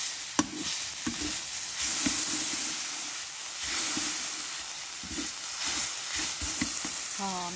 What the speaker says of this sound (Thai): ผัดพอหอมนะผัดให้พอหอม